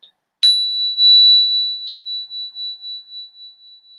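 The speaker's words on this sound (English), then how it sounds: "as you hear the sound of the bell" A single bright strike of a meditation bell rings out and sustains as a pure, pulsing tone that slowly fades over several seconds.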